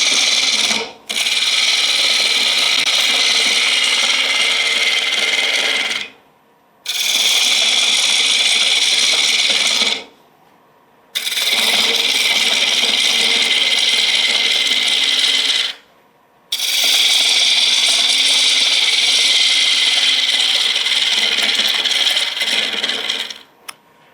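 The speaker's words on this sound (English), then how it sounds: "So let's stop the lathe there" A wood lathe turns a bowl while a carbide tool cuts the interior, giving a steady scraping, hissing cut in four long passes of about five seconds each, split by brief quiet gaps where the tool lifts away.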